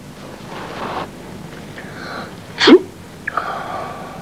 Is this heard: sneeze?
yes